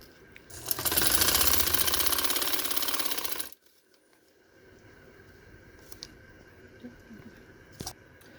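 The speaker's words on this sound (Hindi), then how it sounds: "ये इस कपड़े को हम ट्राउज़र को नीचे रखेंगे और फिर सिलाई दे देंगे" A sewing machine stitching trouser fabric, a fast loud whirring run of about three seconds, followed by quieter clicks and light handling noises.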